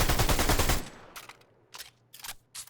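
A video game assault rifle fires a rapid, loud automatic burst that cuts off abruptly, followed by a few short, quieter bursts with small gaps between them.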